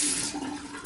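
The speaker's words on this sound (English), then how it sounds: "I'm just going to wet it underneath water." Running tap water wets a badger-hair shaving brush, a brief, steady, hissing splash that fills the short moment without any talk.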